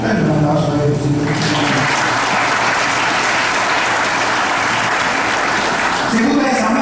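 Church congregation applauding during a sermon, a steady dense wash of clapping that fills the whole stretch, loud and continuous, with a low hum underneath and a voice faintly present in the background.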